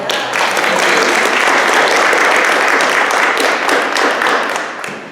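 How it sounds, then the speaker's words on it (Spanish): An audience at a Safe Agriculture Safe Schools community meeting in California's Salinas area claps for the United Farm Workers. The applause is loud, sustained and full, then tapers off near the end. "un aplauso otra vez para los de la Unión de Campesinos"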